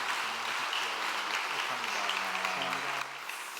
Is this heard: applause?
yes